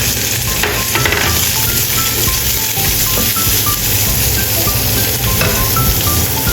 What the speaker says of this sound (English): Stir fry anchovies until fragrant.